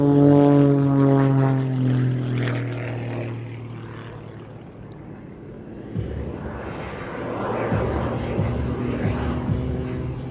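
A jet aircraft flies overhead at a live air show, giving a loud, steady droning engine roar that eases midway and then swells again as it passes, with no voices.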